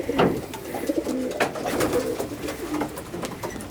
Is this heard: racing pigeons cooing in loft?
yes